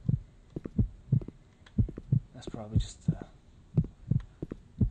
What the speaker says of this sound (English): okay, I'm not liking this heartbeat